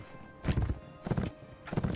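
Horse hooves clip-clop in Mount & Blade: With Fire and Sword, three loud bursts of galloping hoofbeats recurring at roughly half-second intervals, close and unaccompanied by talk.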